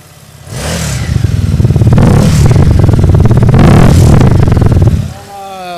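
A loud, close engine revs up hard, holds a rough, rattling roar for several seconds, then drops back to idle.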